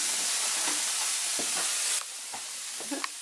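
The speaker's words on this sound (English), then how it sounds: "I'm just going to take my remaining slice of bacon, fry it up" Steady frying sizzle of bacon in a pan, a bright hissing crackle filling the clip, with a few soft clinks and scrapes from the pan; no voices.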